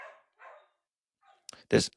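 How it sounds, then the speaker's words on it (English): A dog lets out one or two sharp, close barks at the end, after a few moments of quiet speech in a room. "I'm letting him bark."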